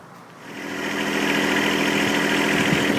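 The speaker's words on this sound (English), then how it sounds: "And I better go put the tractor away." A tractor engine starts up and settles into a steady, loud idling rumble with constant mechanical vibration, close by and running alone.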